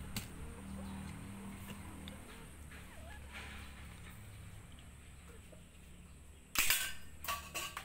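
A homemade toy gun converted from an igniter fires a single sharp crack, followed by a few fainter clicks, after a stretch of quiet low background hum.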